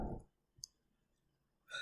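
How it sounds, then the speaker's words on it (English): A single soft mouse click on the update button in Tableau, faint and close in a quiet room, with brief muffled handling noises at the start and end. "Now just I'm clicking on update now, so it will show me the data."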